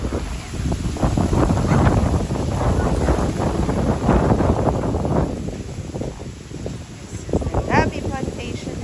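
Steady broadband wind roars over an open farm planted with taro and bananas, loud and continuous with gusty swells, while a voice talks through it.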